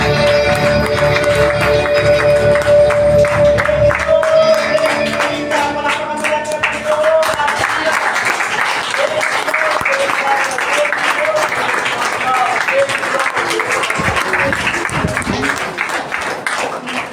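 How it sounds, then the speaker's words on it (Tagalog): A church congregation at a Sunday service clapping and cheering in praise, loud and sustained, first over lingering keyboard music that fades out, then continuing as a dense wash of hand claps and voices. "Sigaw mo palakpak ang ating Panginoon."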